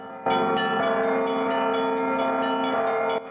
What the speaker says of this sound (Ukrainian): І цей дзвін знову розбудив Київ.